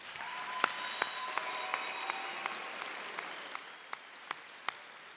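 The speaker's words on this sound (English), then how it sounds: "they need another nice round of applause for doing this" Audience applause at a high school commencement ceremony: steady, moderately distant clapping from a large crowd, with a few sharper individual claps standing out on top.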